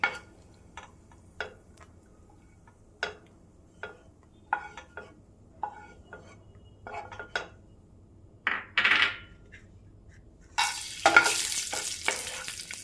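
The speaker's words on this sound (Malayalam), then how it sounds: "നെയ്യ് ഇവിടെ ചൂടായി വന്നിട്ടുണ്ട് ഇതിലേക്ക് ഞാനൊരു നാല് കാഷ്യൂ നട്ട് ഇട്ട് കൊടുക്കുന്നുണ്ട്" A handful of cashew nuts fry in hot ghee, giving scattered clicks and stirring taps from a near pan, then a louder burst of sizzling toward the end.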